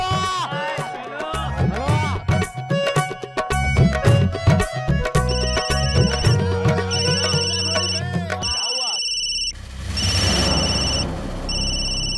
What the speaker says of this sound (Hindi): जरूर उस कसीनो वाले का फोन होगा।